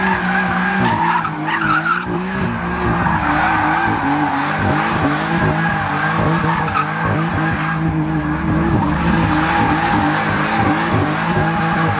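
A car skids with a disintegrated tyre, giving a loud, continuous squealing and scraping roar with wavering pitch that holds steady throughout at close range, with no talk over it.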